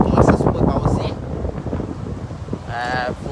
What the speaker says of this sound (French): Je suis le direct là, il y a du vent.